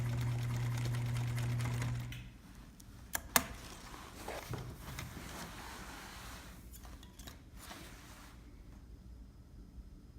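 A sewing machine back stitches a backpack seam in a short steady whir for about two seconds, then stops, leaving quiet handling clicks and rustles.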